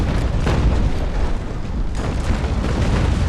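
Heavy cannon fire and impacts rumble from a naval battle between sailing ships in the game Naval Action, a loud, continuous booming wash with a sharper blast near the start and another swell later.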